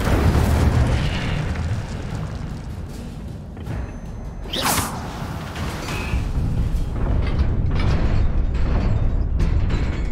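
An Incendio fire spell cast in Hogwarts Legacy, a loud, dense roaring burst with a rising whoosh partway through over continuous rumbling game sound.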